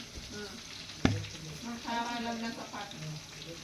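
Kebab pieces frying in a pan, a soft steady sizzle with a sharp clink near the start and light stirring, faint and close, with a voice speaking briefly.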